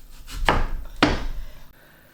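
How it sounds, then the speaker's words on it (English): A knife cuts the core out of an apple, making two firm, close chopping thuds about half a second apart, then quiet. "so I'm just going to have to cut the core out with a knife"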